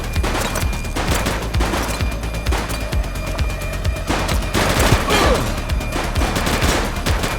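Rapid bursts of gunfire rattle through a shootout in The Precinct, a police video game, with repeated close shots and volleys overlapping at a steady loud level and no voices.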